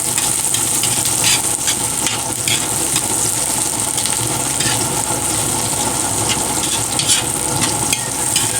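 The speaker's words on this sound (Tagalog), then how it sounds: "Halo-haloin lang po natin hanggang sa lumabas ang amoy ng mga ricado na po." Ginger and garlic being sautéed in a pan for beef pares, with steady sizzling and frying under repeated stirring and scraping, loud and close throughout.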